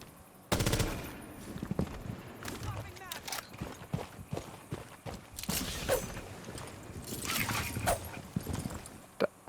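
Gunfire in the Rainbow Six Siege video game comes as sharp bursts of rapid automatic shots with scattered single cracks and footsteps over about nine seconds, loud and close.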